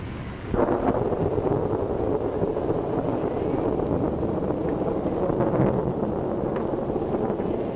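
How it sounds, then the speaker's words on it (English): A storm roars with heavy wind buffeting the microphone and a deep, rumbling thunder-like surge that swells sharply after a brief quieter start and stays loud and continuous. "this is a storm and a half"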